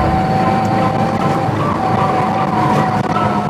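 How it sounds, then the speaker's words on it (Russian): A car slides in an uncontrolled skid while being driven with its manual gearbox drained of oil. The engine gives a steady, loud droning roar with a constant tonal whine running through it, close and continuous. "Неуправляемый занос"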